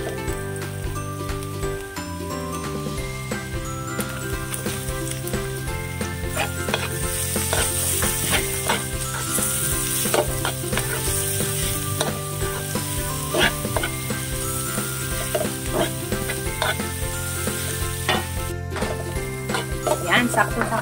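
Ginger sizzles in a hot pan while being stir-fried, a steady close crackle with frequent scrapes and clinks of a utensil. A voice speaks at moments in the background.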